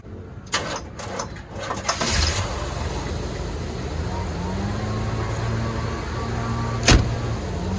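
A Chevy G30 RV engine cranks with a few quick clicks and bursts, catches, and settles into a steady low idle, with a sharp knock near the end.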